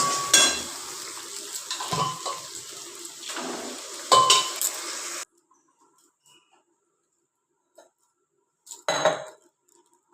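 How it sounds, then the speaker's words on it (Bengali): Spices sizzle in a pan for chana dal, with stirring clinks of a utensil for about five seconds, then a quiet gap and one short clatter near the end; no talking. "মশলা ভাজছি, ছোলা ডাল করবো"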